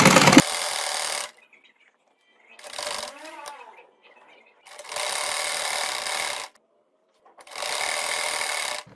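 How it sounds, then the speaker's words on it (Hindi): A sewing machine stitches along a shirt neckline in three or four loud bursts of rapid whirring, separated by pauses, with a short voiced stretch and faint handling between runs. "अब ये शर्ट वाले बड़े गले पर भी जो हमारी सिलाई लगानी थी वो हमने इसको लगाकर कंप्लीट कर लिया"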